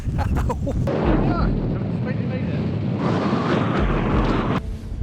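Heavy wind buffets a microphone outdoors while hiking on mountains and hilltops, a loud continuous rumbling roar that swells and gusts for nearly the whole stretch, with a voice partly masked beneath it.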